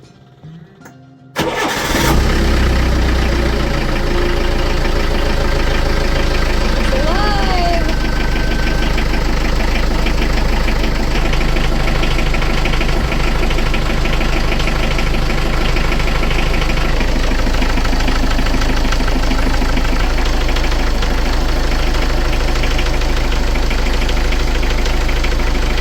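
A sailboat's diesel engine cranks and catches on its first run after a long layup, then settles into a loud, steady, close-up idle that drones on alone for over twenty seconds.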